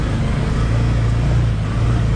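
A Can-Am Defender XMR side-by-side grinding along an icy trail, heard from on board as a heavy, steady low engine rumble with continuous drivetrain and terrain noise.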